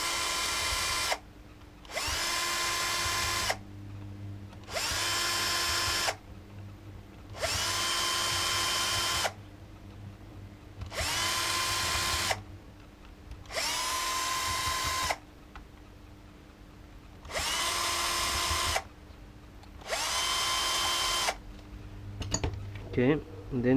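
Power driver backing out the screws that hold the cover on a Ford FMX automatic transmission: about nine loud whirring bursts of one to two seconds each, separated by short pauses, close up.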